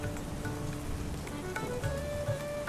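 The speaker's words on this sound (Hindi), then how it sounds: "गांव की गलियां बारिश में भीग चुकी थी।" Rain falls steadily on village lanes, a soft continuous patter with scattered drops close by and faint tonal sounds in the background.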